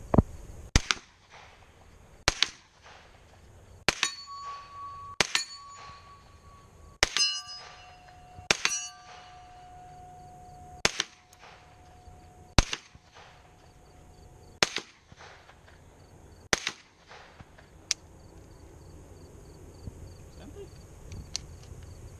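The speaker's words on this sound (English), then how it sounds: "this is my first time shooting this gun" Sharp gunshots from a small plinking gun crack out one at a time at irregular intervals, about a dozen in all, some followed by ringing metallic pings as steel targets are struck, with quiet gaps between shots.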